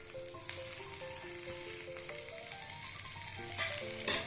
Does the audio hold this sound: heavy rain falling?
no